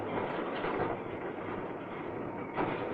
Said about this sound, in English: First on the scene is the borer train.